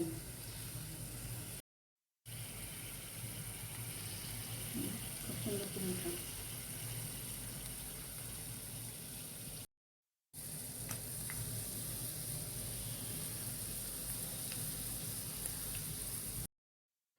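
Steady sizzling of chicken balls frying in oil, close by, broken by two brief silent gaps, with faint clinks and murmured sounds in the background.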